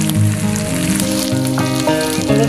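Spices for a Bengali green jackfruit (echor) curry fry in hot oil with salt, giving a loud, close, continuous sizzle that holds steady throughout.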